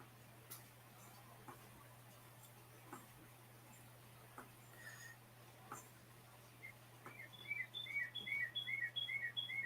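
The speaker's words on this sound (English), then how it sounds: "Can you hear the birds?" Birds chirping outside in a park where robins are plentiful, with scattered clicks and taps early on, then a quick run of repeated high chirps from one bird near the end, soft over a steady low hum.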